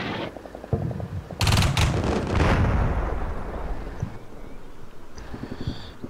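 Howitzer artillery fire in the video game Combat Mission Shock Force, a sharp report followed by a long rumbling boom that slowly fades, with faint scattered distant thuds afterward.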